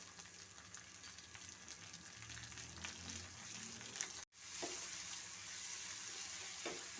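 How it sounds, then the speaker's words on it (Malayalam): Sliced onions go into hot oil with curry leaves for a Kerala dried fish curry, giving a soft, steady sizzle with a few faint scrapes and a brief cutout midway, quiet and without speech. "കറിവേപ്പില മൂത്ത് വരുമ്പോഴത്തേക്ക് സവാള ഇട്ട് കൊടുക്കുക."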